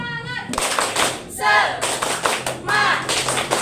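Children clapping a rhythmic spirit clap in a classroom, sharp bursts of hand claps in a short pattern, with young voices chanting between the claps.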